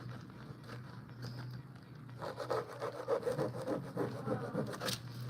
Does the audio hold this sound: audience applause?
no